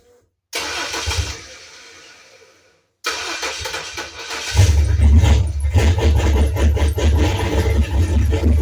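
A turbocharged Ford 300 inline six swapped into a Ford Torino cranks and catches, dies briefly, then restarts and settles into a loud, rough, lumpy cold idle close by.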